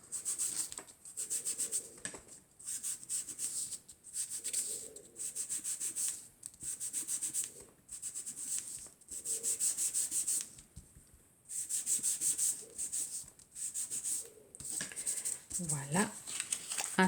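Ink blending tool rubbed repeatedly along the edges of a handmade greeting card, giving bursts of soft scratchy scrubbing in a steady back-and-forth rhythm, close and moderately loud, with brief pauses between strokes.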